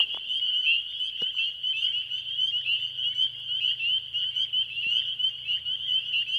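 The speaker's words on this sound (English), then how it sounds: "I am hearing peepers, I am hearing chorus frogs" A dense chorus of spring peepers and chorus frogs trilling steadily from a marsh, a continuous high pulsing drone with a few faint clicks, moderately distant and without voices.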